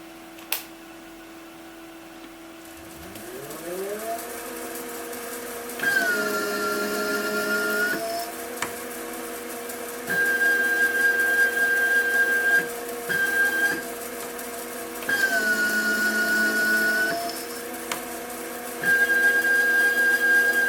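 A Hobbymat 65 hobby lathe cuts a thread, its motor spinning up into a steady whirring hum. A thin high whine breaks in and drops out over several passes.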